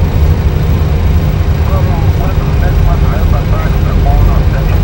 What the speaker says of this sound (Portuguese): O comandante agora inicia o procedimento motor número 1, uma vez que o 2 já está em funcionamento.